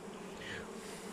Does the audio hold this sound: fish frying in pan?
no